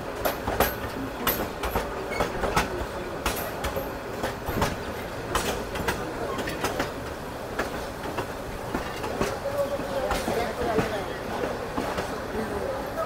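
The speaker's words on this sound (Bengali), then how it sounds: "এবার আমাদের ট্রেন কিন্তু মহিমাগঞ্জ রেলওয়ে স্টেশনে প্রবেশ করছে" A Korotoa Express train rolls into Mohimaganj railway station, wheels clattering in irregular clicks and knocks over the rails, with occasional sharp squeals, heard from on board under faint speech.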